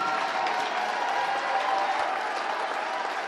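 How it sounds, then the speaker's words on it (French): A congregation at a Paris miracle conference applauds in a dense, even wash of clapping, moderately loud and sustained throughout, with faint voices blended in. "C'est à lui les acclamations."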